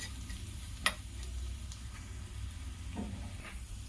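A low, steady sizzle of dry red chilies frying in hot oil, with a few faint clicks and small pops over it, no voices.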